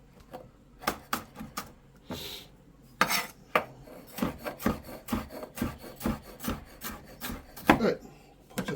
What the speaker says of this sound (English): properly chop this